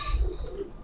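A Kasuri pigeon gives one short, low coo nearby, brief and soft against a quiet background.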